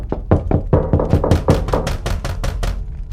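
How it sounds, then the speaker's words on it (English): Heavy, violent knocks on a door in an upstairs room, about a dozen loud thuds in a steady rhythm that keep going and grow slightly fuller, with no voices. "some very heavy sounds, as if someone was knocking violently in a room"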